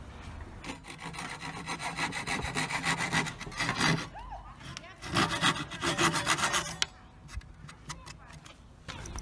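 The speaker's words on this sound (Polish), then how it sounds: "Zrobię sobie drobnym zębem, chcę tylko odciąć kołeczek, zobaczyć jak to pracuje." A Parkside Japanese pull saw with fine teeth cuts through a small wooden peg, giving close, raspy strokes in quick bursts with short pauses between them.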